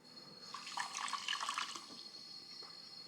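Lukewarm water runs from a kitchen tap into a container for sandwich bread dough, a faint, brief splashing stream that swells for a second or two, then fades.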